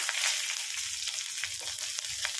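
Panch phoron seeds and green chillies sizzle and splutter in hot oil, a steady close frying hiss with scattered small pops and crackles.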